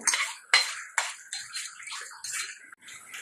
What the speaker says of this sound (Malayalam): അരച്ച് വെച്ച തക്കാളിയുടെ പേസ്റ്റ് ഇത് ഒഴിച്ചു കൊടുത്ത്